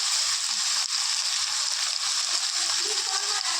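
Chopped carrot, beans and cabbage sauté in a pan, giving a steady, close, bright sizzle and hiss with faint scraping from stirring throughout, no voices.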